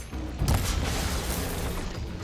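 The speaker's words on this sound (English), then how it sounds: "Salvo cannon hits." Heavy booming impacts from salvo cannon hits in Horizon Forbidden West against Tremortusks, a loud thump near the start followed by rumbling, crackling debris that slowly fades.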